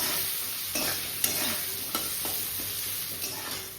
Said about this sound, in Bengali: তারপরে এই আলুটা ভাজা বসিয়ে দিয়েছি